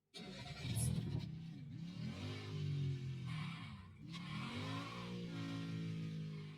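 Revving car engine in the retro low-poly mobile racing game Cars LP, a steady loud drone that climbs and dips in pitch as the car accelerates and shifts, with no talking.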